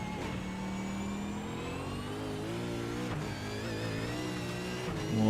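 Sim racing car in an NT eSeries round driven on the very edge of its tyres, a steady engine drone with layered rising harmonics, squealing tyre tones and a sharp gear-change dip, then a louder surge at the end.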